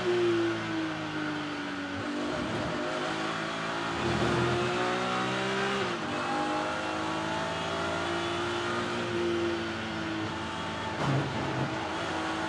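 A BMW race car in the Kumho BMW Championship at Brands Hatch Indy holds third gear against the rev limiter, a loud, steady onboard engine drone with a stuttering, bouncing pitch and brief dips, no talk over it.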